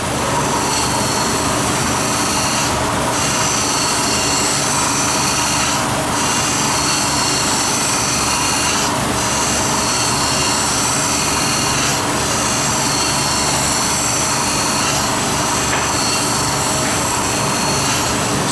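A cam grinder's abrasive wheel cuts a camshaft lobe, giving a loud, steady, dense machine roar with a high whine, pulsing at regular intervals of about three seconds as the wheel sweeps the lobe.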